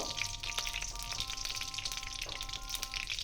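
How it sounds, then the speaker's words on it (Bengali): Ghee sizzling and crackling steadily in a hot kadai, a dense continuous fizz with scattered pops and a faint hum underneath, no talking. "ঘিটা দেখো গলে এসছে, গরম হয়ে গেছে ঘিটা"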